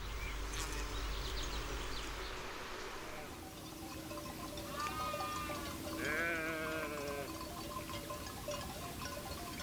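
A few sheep bleat in the distance in Monfragüe park's Mediterranean forest, Spain, over a soft outdoor background of insects and low rumble, with wavering calls standing out near the end.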